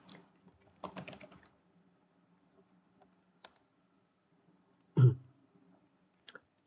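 Someone types an ipconfig command on a computer keyboard at a command prompt. A few faint, sparse key clicks come in short bursts, with a louder thump partway through.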